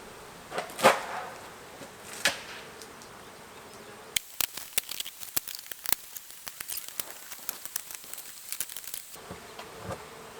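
Bees buzz in a large hive inside an abandoned chicken barn, a faint insect drone mixed with scattered sharp ticks and light knocks against old wood, rising into a busier patter partway through.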